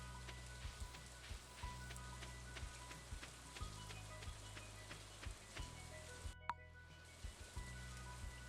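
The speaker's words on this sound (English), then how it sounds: "Good rain." Rain in Stardew Valley, a soft steady hiss of falling drops with faint patters, quiet and continuous over low game music with a brief cutoff near the end.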